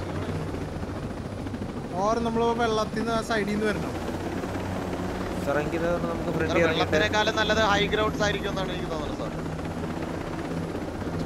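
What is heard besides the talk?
helicopter in the video game Ghost Recon Breakpoint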